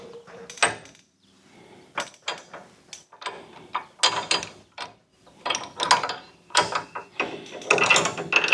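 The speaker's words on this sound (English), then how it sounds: "before we put the rotor on, we need to put these caliper brackets on." A ratchet wrench tightening disc brake caliper brackets on a Chevy fitted with a CPP kit, quick clicking bursts in uneven runs with pauses between, close and fairly loud, with no talking.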